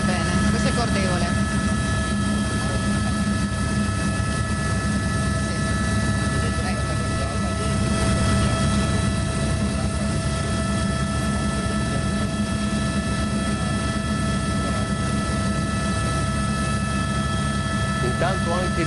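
Helicopter flying over a flooded river valley during severe weather, its steady rotor and engine drone loud and continuous throughout, with a broadcast voice talking over it.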